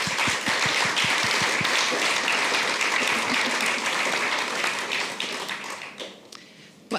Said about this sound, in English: really join me in applause for our workshop leaders